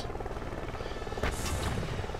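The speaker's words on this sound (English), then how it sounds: "Harbor helicopter." Harbor helicopter from the Lego Batman video game on Wii U, heard as a steady buzzing rotor drone with a brief louder whoosh midway, continuous and fairly close, no talk.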